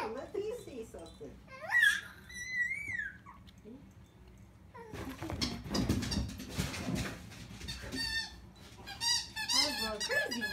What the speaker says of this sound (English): I just threw it for the dog. Yeah, I did. He likes it. Squeak, squeak.